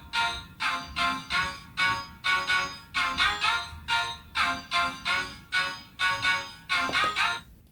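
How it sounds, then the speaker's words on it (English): A layered cowbell lead knocks out a steady, syncopated pattern of bright, metallic hits over a low rumbling bed, moderately loud and rhythmic throughout with no voices. "we have this lovely cowbell lead that sounds like this"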